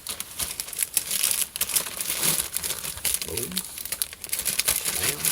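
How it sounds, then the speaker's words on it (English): Packing tape is pulled and pressed onto a poly shipping package in a loud, close stretch of crinkling and tearing, with a brief spoken word. "Throw tape on."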